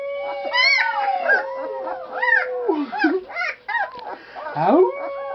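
Drawn-out, wavering howls rise and fall in pitch, several overlapping cries repeating over a few seconds, close and fairly loud, with no talking.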